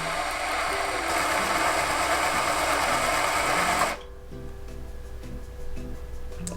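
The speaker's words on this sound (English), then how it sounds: "I gotta thread my bobbin." A Bernina sewing machine winds its bobbin with a loud, steady mechanical whir for about four seconds, then drops to a quieter motor hum with faint ticking.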